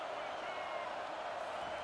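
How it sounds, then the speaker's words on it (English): A stadium crowd roaring on third down in a football video game, a dense, steady wash of cheering noise heard at a distance. "Third down, and this crowd is tearing the lid off this place."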